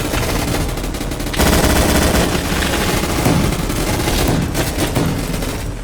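Rapid automatic gunfire from the online shooter Gunfight Arena, dense bursts of machine-gun shots running continuously and loudly throughout with a busy layered mix of weapons fire.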